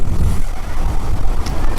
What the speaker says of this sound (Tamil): காற்று பார்த்திங்கன்னா காற்றோட சவுண்டே புஷ்ஷுன்னு கேட்குது செம்மையாக.